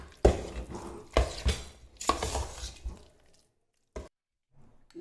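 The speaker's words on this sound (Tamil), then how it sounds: "கட்டி இல்லாமல் நல்லா கிளறி எடுத்துக்கலாம்." Curd rice with cream stirred in a pot: several scraping, clanking spoon strokes against the pot in the first three seconds, then quiet with one last clink.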